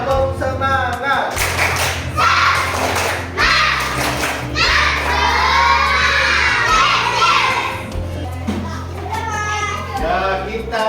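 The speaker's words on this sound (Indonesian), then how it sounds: "Tepuk semangat." A classroom of children in Sigi, Indonesia, performs a rhythmic class spirit clap chant, shouting together over bursts of clapping, loud and near, with an adult voice leading between rounds.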